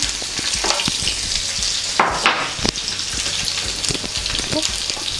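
Garlic, mustard seeds, urad dal and cumin frying in hot oil for a red chilli pickle, giving a loud, steady close-up sizzle with a few brief spatters and stirring scrapes.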